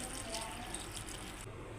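Water pours steadily into a pressure cooker holding pundi palya ingredients like rice, peanuts and spices, a continuous splashing gush that cuts off near the end.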